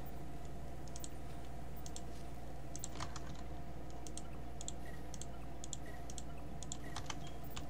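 Computer keyboard keys clicking steadily during a System Shock play session, a dense close run of light clacks over a constant low hum, with a few sharper louder taps standing out.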